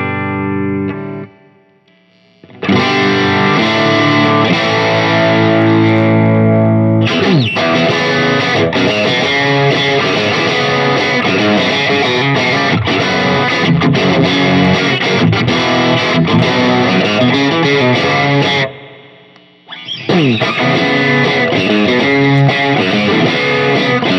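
Electric guitar played through a Fractal AX8 emulating a Suhr Badger 18 amp with a Coco Boost engaged, giving loud, driven, distorted chords and riffs that fill most of the clip. Playing breaks off in short pauses near the start and end.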